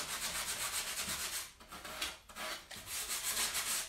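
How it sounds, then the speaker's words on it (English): Rhythmic back-and-forth sanding of a textured painted surface, repeated scratchy rasping strokes with brief pauses, close and clear with no talking. "So I'm sanding back my Neptune's rust that I used in texture on my item."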